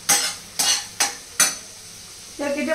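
Chicken sizzles in a pan as a spoon scrapes through it in four quick, evenly spaced strokes, followed by a gentler bubbling sizzle close by with no speech.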